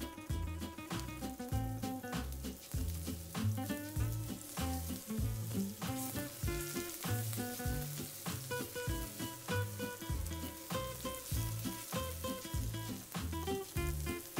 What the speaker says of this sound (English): a little olive oil, the pan's very hot. And then we're just going to lightly brown these.